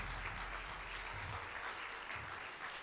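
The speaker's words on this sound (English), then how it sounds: "So I want to give them a round of applause" Scattered applause from an audience at a school band winter concert, a soft, distant wash of clapping that stays fairly even and faint for the whole stretch.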